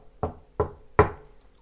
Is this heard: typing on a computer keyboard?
no